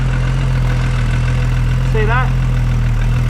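Ford XR6 Turbo engine idling with a steady low drone, close and loud, while someone speaks briefly over it.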